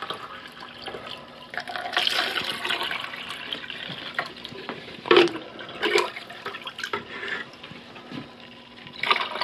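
Salt water being poured while setting up containers for a tigger pod culture in a home aquarium setup, heard as a close, splashing liquid pour with fill and drip sounds that swell and fade over several seconds.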